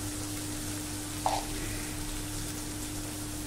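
Steady, even sizzle of onion sautéing with salt in a hot pan for dal fry, a continuous frying hiss with one brief clink partway through.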